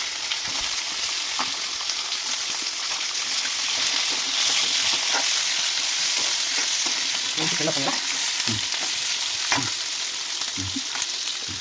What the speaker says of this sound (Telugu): ఇవన్నీ బాగా వేయించుకోవాలి